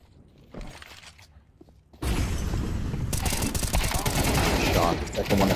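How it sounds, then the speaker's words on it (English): Gunfire in an esports pro league video game match: after a quiet stretch with faint clicks, a loud burst of rapid shots breaks out and keeps going as a dense, rattling salvo. "it's gonna be a salvo of bullets"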